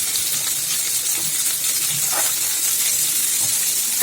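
Roughly chopped onions and two medium tomatoes fry in a home kitchen pan, giving a steady, close hiss and sizzle with faint stirring sounds and no voices.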